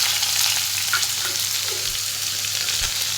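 Pineapple pieces frying in a pan with popped mustard seeds for pineapple pulissery, giving a steady, close broadband sizzle with faint stirring. No one speaks.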